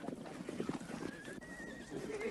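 Horses on the edge of the Gobi in Mongolia whinny faintly while hooves clip-clop, with one rising neigh standing out over distant, low-level background sound.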